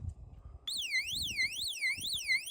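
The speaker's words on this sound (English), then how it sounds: "See, if I go up here, this alarm's gonna go off." A truck's electronic alarm sounds loud and close, a warbling siren that sweeps up and down in a steady repeating rise and fall after starting abruptly, with low wind-like rumble underneath in a remote Alaskan outdoor setting.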